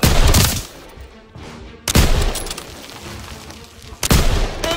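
Machine gun fire in Call of Duty WWII, set in the August 1944 liberation battle, comes as loud bursts at the start, around two seconds in and again near the end, with quieter gunfire and battle noise between them.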